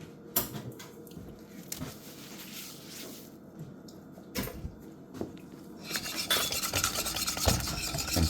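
Butterscotch pudding is whisked in a pot on the heat: a steady scraping, rasping stir with light metal clinks against the pan, growing busier and louder toward the end, with no talking.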